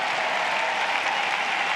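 Crowd applause at a US Open tennis semifinal, a steady, dense clapping from a large stadium audience, sustained evenly throughout with no voices over it.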